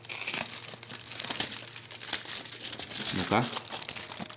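A Babaevsky chocolate bar with mandarin is unwrapped, its wrapper crinkling and tearing in several close, sharp bursts while someone speaks briefly.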